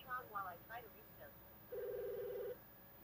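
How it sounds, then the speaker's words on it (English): A steady electronic telephone ring tone from a smartwatch speakerphone sounds once for under a second, following a few brief bursts of voice-like sound earlier in the clip. "All right, so it is ringing."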